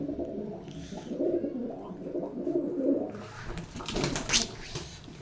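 Pigeons in a pigeon loft coo in soft, low, repeated calls at close range, and a brief rustle of wings or movement follows near the end.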